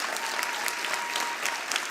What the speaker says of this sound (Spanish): Que sea inagotable ese aplauso para el maestro Luis Rafael Sánchez,